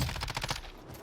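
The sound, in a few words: gunfire in the video game Warzone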